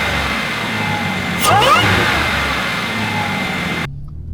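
An Audi S4 B8 supercharged engine fitted with an open filter intake runs with a steady hum, then gives one brief rev with a rising whine partway through before settling back, cutting off abruptly near the end.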